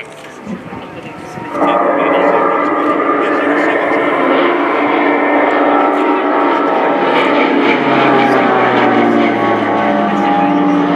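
Pilatus PC-7 propeller aircraft flying a solo display pass at an air show, a loud sustained engine drone that swells in after a quieter start and holds steady, with a slight falling pitch late on.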